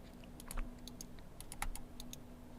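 Quiet clicks of a computer mouse being right-clicked on a desk, a few sharp, light taps spaced irregularly, with low background hum and no talking.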